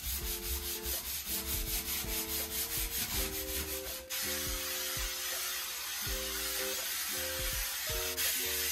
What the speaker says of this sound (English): I found a sanding block in the garage, so I think this will be more efficient